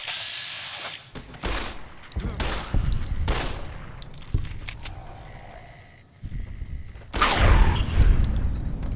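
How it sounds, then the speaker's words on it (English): Gunfire from a Fallout: New Vegas firefight near Camp Golf, with several sharp shots and bursts spread across the stretch, a louder cluster toward the end, and faint voices in the background. "Shot him right in the keister."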